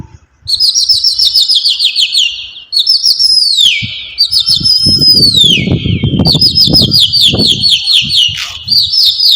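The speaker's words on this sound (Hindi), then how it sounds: "उड़ा दिया गया है कबूतरों को।" Many pigeons burst into flight at Gurudwara Sis Ganj in Chandni Chowk, Delhi, their wings flapping in a loud, rising clatter beneath continuous bright chirping and whistling bird calls, with no talk.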